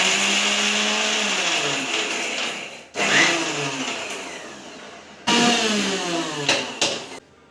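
Mixer grinder blending green chillies, coriander and mint, a loud whirring motor running in bursts with two brief stops, pitch shifting as the load changes, close and with no talk.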